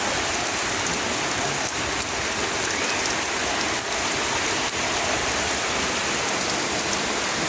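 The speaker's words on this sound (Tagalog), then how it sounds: "Sobrang lakas ng ulan." Heavy rain from Typhoon Carina pours down hard and steadily on surfaces close by, a dense unbroken hiss with no voices.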